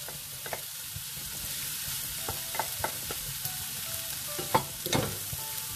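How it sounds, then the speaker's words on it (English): Rice tossed with cooked vegetables in a hot wok for village-style nasi goreng belacan: a steady close sizzle with repeated scraping and clacking of the spatula, no talk. "Always make sure that your vegetable is cooked, then you add your rice."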